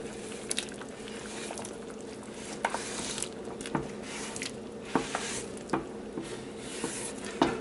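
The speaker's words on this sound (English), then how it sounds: "So now I'm going to add the potatoes" Chunks of potato drop and splash into a simmering pot of homemade chicken soup, scattered soft plops and stirring clatter over a steady bubbling background, close by.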